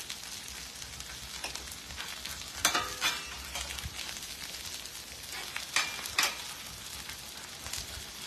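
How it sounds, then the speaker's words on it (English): Patty melts sizzle in butter on a grill out on a porch, a steady close frying hiss broken by occasional louder pops and spatters. "I'm going to put these on the grill with a little bit of butter on the grill"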